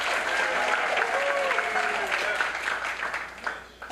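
Audience at a candidates' night clapping for a Cook County Commissioner, a full, steady round of applause with a few voices and whoops mixed in, easing off slightly at the end.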